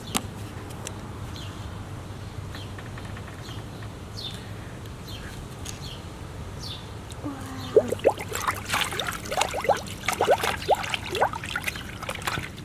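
A sneaker is lowered into a hydro dip tank, heard as soft trickling and dribbling water that rises into louder splashing and sloshing in the second half, after a quiet stretch of faint background noise.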